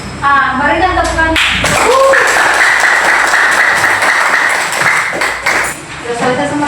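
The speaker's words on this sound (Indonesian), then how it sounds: "Berikan tepukan." A class of students in an Indonesian classroom claps together on a teacher's cue. The clapping is loud and close, and bright ringing tones and voices sound over it.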